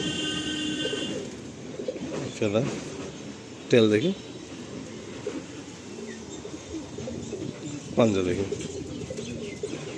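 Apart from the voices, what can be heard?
black Andhra pigeon cooing while handled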